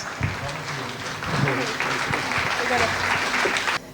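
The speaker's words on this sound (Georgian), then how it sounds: "ხურვალე ოვაციები ჩვენს მარიტას." An audience applauds a performer named Marita at a stage show in Batumi, a steady wash of clapping that rises slightly and then stops abruptly, with a voice speaking over it.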